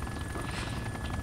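A Cobra helicopter engine in Arma 2 drones steadily: a dense, continuous rotor and turbine roar with no break, loud and close.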